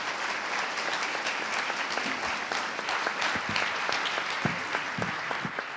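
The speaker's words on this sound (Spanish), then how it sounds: "les pido un aplauso" Sustained audience applause fills a conference hall at an oncology congress, dense and steady clapping from a large crowd for the full duration, with no talk over it.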